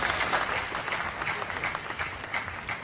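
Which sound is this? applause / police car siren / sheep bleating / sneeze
applause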